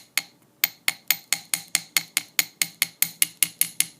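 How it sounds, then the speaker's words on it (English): A jewelry hammer strikes wire on an anvil in a steady run of about fifteen sharp metallic taps, close and crisp, evenly spaced and quickening slightly. "I'm going to use the center of my hammer,"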